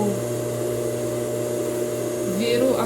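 A sewing machine runs continuously in reverse while stitching fabric for a blouse, giving a steady close motor hum with a low, even drone throughout.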